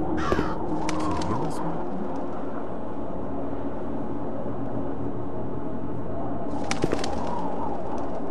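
A crow caws in the video game Root of all Evil, with a couple of harsh calls near the start and again near the end over a steady background ambience.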